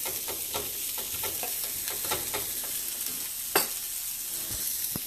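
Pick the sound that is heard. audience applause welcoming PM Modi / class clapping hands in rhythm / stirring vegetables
stirring vegetables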